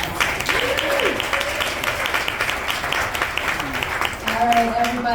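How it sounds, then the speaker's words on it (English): Audience applause after a performance at an Earth Day arts panel event, steady clapping throughout with a voice or tonal sounds briefly over it. "Let's give him one more round of applause"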